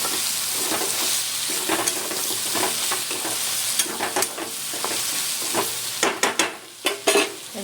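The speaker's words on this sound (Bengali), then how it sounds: "আবারও আমি নাড়ব।" Taro stolons (lati) frying in a pan while being stirred, a steady close sizzle broken by scraping spatula strokes that grow louder and more frequent toward the end, no voices.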